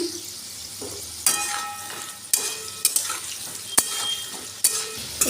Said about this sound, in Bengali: এখানে একটা কড়াই তেল বসিয়ে আলু ভেজে নিচ্ছি